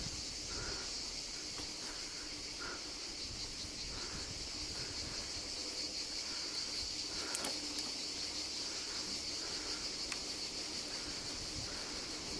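Cicadas shrill steadily in the background, a constant high-pitched buzzing that fills the whole stretch with no talking over it, heard outdoors during a weekend bike ride.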